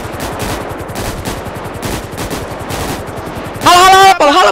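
Rapid automatic gunfire in an online shooter game, loud and steady bursts throughout, ending in a sharp high-pitched tonal effect, with players' voices faintly mixed underneath.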